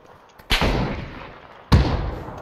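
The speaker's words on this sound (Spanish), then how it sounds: "Le pegó, esa granada le pegó" Grenade blasts in the video game PUBG: two sharp, loud booming explosions about a second apart, each with a rolling, fading tail, heard alone.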